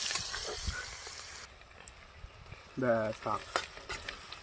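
Chopped onion with cumin seeds and dried red chillies frying in hot oil, a close, steady sizzle with stirring scrapes and brief clatters.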